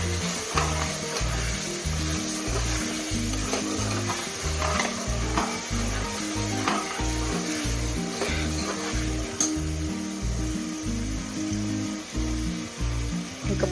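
Continuous sizzling of mint and coriander leaves frying in a pan for mushroom biryani, with steady scraping and stirring strokes throughout, close and fairly loud.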